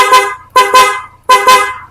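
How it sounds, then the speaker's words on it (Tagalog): Three loud, blaring honks from an aftermarket loud horn on a Honda ADV 160 scooter in quick succession, each a brassy, buzzing blast cut off abruptly. "meron din tayong loud horn"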